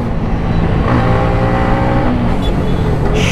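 A motorcycle held near its redline on an open road, a loud, close, sustained high-pitched engine roar with a slight climb in pitch.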